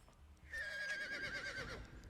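A horse whinnies once, a loud, wavering neigh lasting over a second that rises and falls in pitch and stands alone, with no talk over it.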